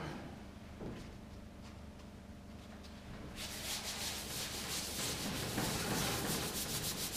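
Steady rubbing of a sanding block across a surface, quiet at first and then louder, with fast back-and-forth strokes.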